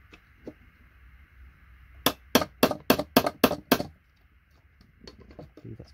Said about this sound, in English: Use a little chisel for it.